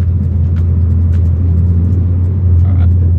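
A turbocharged SOHC 4G93 Mitsubishi engine drones steadily from inside the car as it heads onto the freeway, a loud, constant low rumble with a slight rise in revs near the end.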